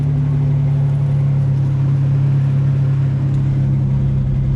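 A loud, steady truck engine idling with a deep, constant rumble and strong low drone throughout, no talking.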